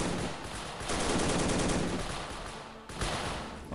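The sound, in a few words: machine gun fire from World War 2 video game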